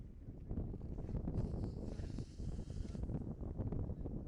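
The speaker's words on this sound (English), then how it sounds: "Nice windy day." Strong wind buffets the microphone outdoors on a hot day near water where someone is out on a board, a steady broadband rush with gusts throughout.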